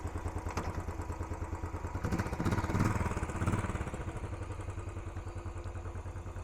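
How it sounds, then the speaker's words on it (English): A 2018 Royal Enfield Classic 500 motorcycle idles after a cold start, its single-cylinder engine giving a close, steady, loud thumping beat with a slight rise in the middle and no speech. "how nice it sounds. This is a cold start as well."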